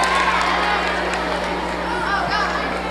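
A school assembly audience at Hill Country Middle School claps and cheers in a continuous crowd roar, with voices and shouting mixed throughout.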